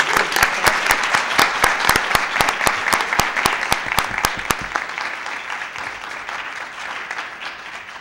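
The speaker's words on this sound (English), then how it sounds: "let's have another round of applause for a great educator" People at a school board of education meeting applaud an educator. A few close, distinct hand claps beat in a quick rhythm over a wider round of applause that slowly thins and fades.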